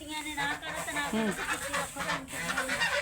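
Ducks honk and quack in a loud, agitated cluster after being chased around a yard, several overlapping calls, with faint talking nearby.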